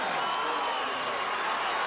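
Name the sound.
wrestling arena crowd yelling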